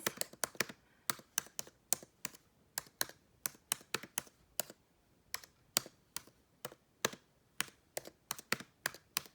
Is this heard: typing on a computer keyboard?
yes